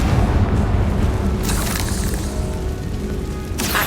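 A Confringo blast spell explodes in the video game Hogwarts Legacy, a loud booming burst with a sustained rumbling roar and crackling debris that stays dense throughout, with a second sharp impact near the end.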